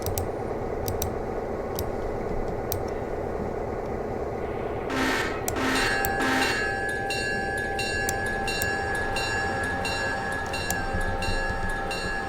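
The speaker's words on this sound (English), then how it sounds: "52 is departing Alarka Junction" Train rolling out of a junction in the railroad simulation game Railroader, a steady rumbling run with a sustained whistle-like tone partway through and a few sharp clicks, with no talking.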